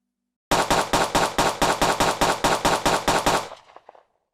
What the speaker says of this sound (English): That's the sound of 14 gunshots.